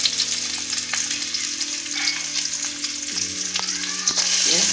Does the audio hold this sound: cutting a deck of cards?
no